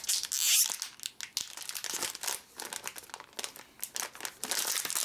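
A crinkly packet of Bertie Botts Every Flavour Beans is handled and pulled open, giving loud, close crumpling and crackling plastic noises in irregular bursts with brief pauses, no voices.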